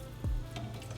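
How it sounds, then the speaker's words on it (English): Jackfruit nuggets frying in hot oil give off a steady, close sizzle that surges briefly near the start, then holds at an even crackling hiss with no voices. "You can hear that sizzle."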